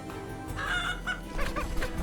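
Chickens cluck in the video game Book of Hours, several short clucking calls over a steady musical background, moderately loud and with no talk.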